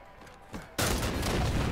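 Sniper rifle fire in a Halo 5 match lands as a loud, sudden blast that cuts in after quieter game ambience, leaving a dense, sustained roar of noise behind it.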